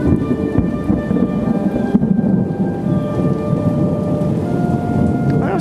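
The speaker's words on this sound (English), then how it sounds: "I was hoping to get some pretty good thunder out here" Heavy rain pours steadily through a rainstorm while deep thunder rolls and rumbles underneath, loud and close throughout with no voices.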